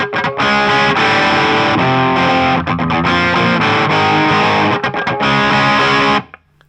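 Electric guitar played through heavy distortion, riffing: loud, dense chugging chords in a driving rhythm with brief muted gaps, close and alone before cutting off at the end.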